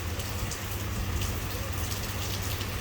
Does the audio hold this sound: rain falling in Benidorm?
yes